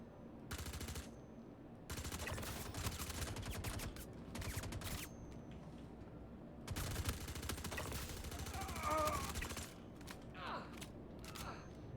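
Bursts of suppressed automatic gunfire in Star Citizen come in several rapid clattering volleys with short pauses between them, plus mechanical clicks and faint chirps.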